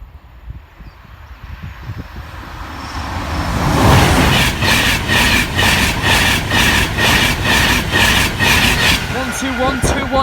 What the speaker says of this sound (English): Yep, freight's leaving.